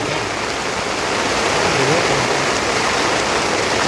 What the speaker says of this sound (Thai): ฝนตกมันหนักเลย